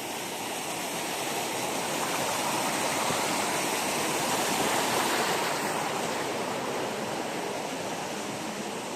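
Water rushes and splashes steadily at the source of Naumag Waterfalls in Aguinaldo, Ifugao, a loud, continuous broadband roar with no voices.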